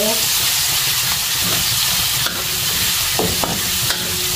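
Pork and tofu sauté in a pan with a steady, close sizzle, while a utensil scrapes and clinks against the metal now and then throughout.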